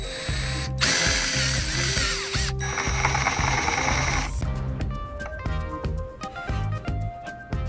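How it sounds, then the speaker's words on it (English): Drilling countersinks into aluminum extrusion for flathead machine screws on an open-frame mini-ITX PC build, with bursts of high-pitched whirring bit noise at the start, then rhythmic clicking and ratcheting mechanical sounds, close and fairly loud, with no talk. "I'm going to drill it down just a little bit so they sit flush."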